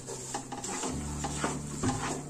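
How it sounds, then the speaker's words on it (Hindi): Gram flour and sugar being stirred together in a pan, giving a steady scraping and clinking of a spoon against metal that runs throughout, close and moderately loud. "ऐसे अच्छी तरह मिक्स करेंगे, चूल्हा बंद कर देते हैं बस।"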